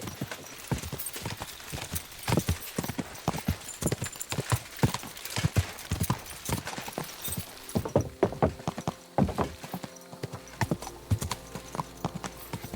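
Rapid, clattering horse hoofbeats in a video game clip-clop in a quick irregular rhythm, loud and close, with a brief horse whinny near the end.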